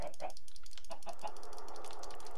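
Chickens in the video game Minecraft give short clucks in a quick burst near the start, followed by a steady synthetic hum from the game.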